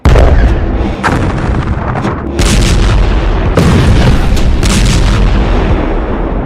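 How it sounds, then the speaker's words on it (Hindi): Missiles and artillery shells explode on a wartime battlefield, a dense, loud, continuous barrage of booms and blasts with no let-up and several heavier impacts standing out. "मैदान में मिसाइलें गरज रही हैं।"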